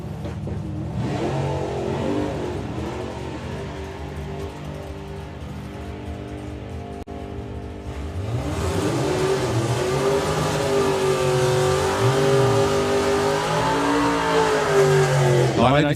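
A drag racing car beside an MG on the strip, engine idling with a rough burble before revving hard and roaring steadily louder after the launch, with a voice speaking over the noise.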